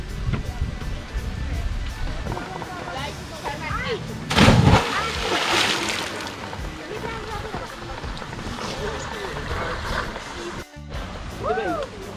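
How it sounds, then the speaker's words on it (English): Beetroot being washed in water, with splashing and sloshing that swells into a louder burst midway, under a person talking through most of the clip. "I will wash off and then grate it."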